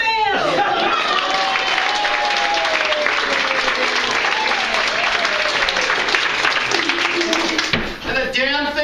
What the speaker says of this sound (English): we'll applaud you for it